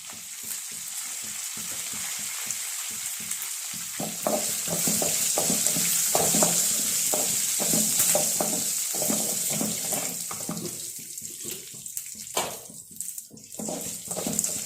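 Curry leaves and spices sizzle loudly in hot oil for a Palakkad-style roasted-coconut sambar, a dense crackling fry with stirring scrapes that grows busier midway and thins toward the end.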